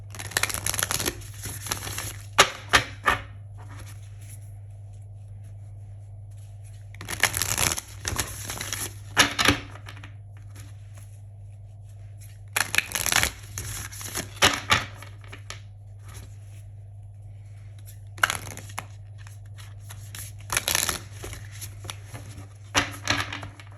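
A deck of oracle cards is shuffled by hand in repeated bursts of crisp riffling and flicking, separated by quieter pauses over a steady low hum.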